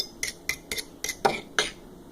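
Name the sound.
stirring slime mixture with a utensil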